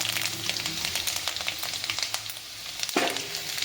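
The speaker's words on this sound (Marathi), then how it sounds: "थोडी मोहरी टाकली ही जिरी टाकली थोडासा कढीपत्ता टाकलाय" Mustard seeds, cumin and curry leaves sizzle in hot oil for a pumpkin curry, a steady crackling fry with scattered pops and a sharper burst near the end, no voices.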